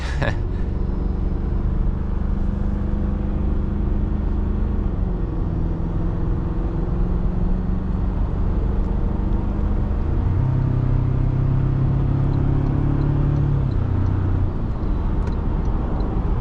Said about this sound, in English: Hear a little bit of turbo noises, which is kind of cool. A little blow off valve there as well.